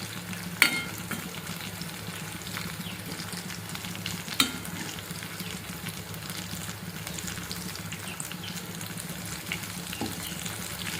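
A vegetarian version of seer fish fry, with a vegetable standing in for the fish, sizzles steadily in a pan for the whole stretch, with a few sharper clatters as pieces are turned over. No one speaks.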